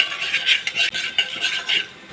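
Chana dal being stirred in a pan for a South Indian brinjal gravy, a steady scraping and rustling of spoon against metal, close and continuous with rhythmic swells, no voices.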